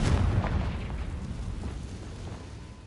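An explosive blast from the Confringo fire spell in the Hogwarts Legacy video game, a loud broadband boom at the start that rolls into a long rumbling decay with no voices.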